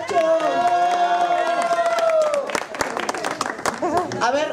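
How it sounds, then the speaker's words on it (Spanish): A comedy show audience in Mexico, cheering a young comedian. A long drawn-out shout gives way to a burst of loud clapping and crowd cheering from close by. "¡Bravo, aplausos, aplausos!"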